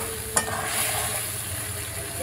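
Prawn masala sizzles in a pan after a little water is added, a steady close hiss with a sharp clink of the stirring spoon near the start and no talking.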